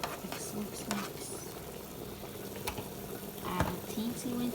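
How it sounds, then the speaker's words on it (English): Curry chicken being stirred in a pot, quiet scraping and stirring over a soft bubbling simmer, with faint low talk in the background. "We're just gonna mix it up."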